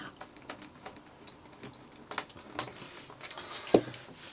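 Quick, uneven key taps on an IBM ThinkPad T43 laptop keyboard, close and fairly quiet, with a few sharper clacks standing out from the soft run of keystrokes.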